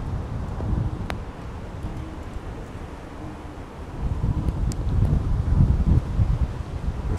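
Gusty wind blowing outdoors at a plein air painting spot by a bridge, a low rumbling roar of buffeting on the microphone that swells louder in the second half, with no talking.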